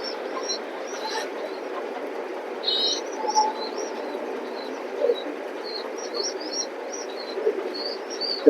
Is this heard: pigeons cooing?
yes